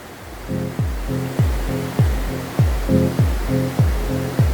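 Spring water pours from cracks in the rock at the source of the Munzur river. A steady, close rushing wash carries a recurring pulsing tone, repeating about every half second.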